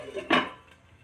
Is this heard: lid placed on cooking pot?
yes